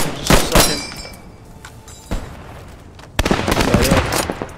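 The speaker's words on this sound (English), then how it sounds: "Keep shooting at it." Loud gunfire in the video game Post Scriptum: close bursts of rifle and machine-gun fire at the start, scattered shots in the middle, then sustained heavy firing toward the end.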